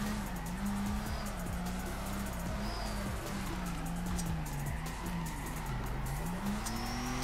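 A car drifts in the Torque Drift video game, its engine droning at a wavering, steady pitch while tires hiss and squeal through a long slide, continuous and close with no voices.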